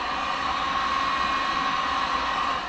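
A heat gun blows hot air onto the lens of a Ram truck headlight, making a steady, loud, close whoosh with a constant tone that runs unbroken throughout, with no talking.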